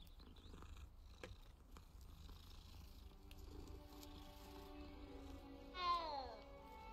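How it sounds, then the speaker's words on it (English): A cat purrs softly while being petted in the video game Hogwarts Legacy, a faint steady rumble throughout, with a brief higher vocal sound near the end. "gotta pet all the kitties."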